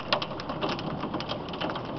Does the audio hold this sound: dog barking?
no